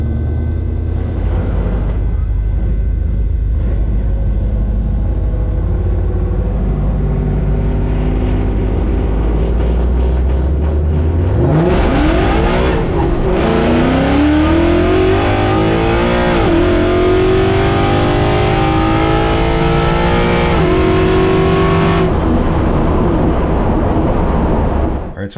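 A Mustang with a swapped-in GT500 supercharger rumbles at idle, then launches down a drag strip at night, its loud engine climbing through rising, screaming gears with supercharger whine before cutting off abruptly.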